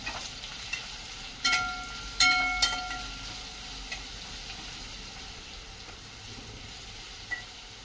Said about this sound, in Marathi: अद्रक लसणाची पेस्ट टाकून घेऊया चांगलं मिक्स करून घ्यायचं आहे